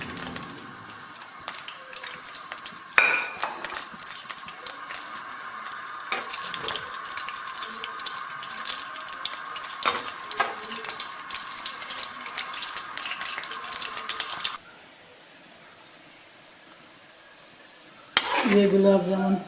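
Gulab jamun made from bread frying in hot oil on raised heat, giving a steady, moderate sizzle with occasional stirring clatter, a short quieter gap, then the sizzle returning.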